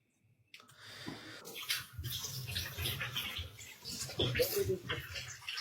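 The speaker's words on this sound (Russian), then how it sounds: "Джентльмен купается." Water splashes and sloshes as someone bathes, a continuous irregular splashing close by with faint voices in the background.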